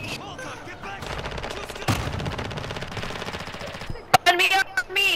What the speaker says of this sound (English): that was me shooting you